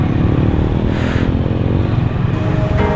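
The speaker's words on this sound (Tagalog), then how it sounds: "So mahaba na yung traffic, mga tricycle, motor." Motorcycles and tricycles rumble in dense roadside traffic, with trucks also passing; a steady, loud engine drone with clattering and a brief revving rise, close by and continuous.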